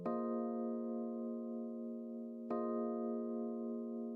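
Sustained electric piano chords from a beat with an EQ effect applied, ringing steadily and loud, struck once at the start and again midway, with no voices.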